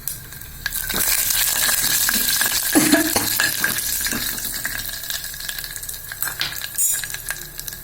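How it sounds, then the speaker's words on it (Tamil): Asafoetida dropped into hot oil with curry leaves, a loud close sizzle and spatter with stirring clinks and scrapes of a spoon against the pan, continuing steadily with no talk. "இப்போ நம்ம பெருங்காயம் போட்டுடலாங்க"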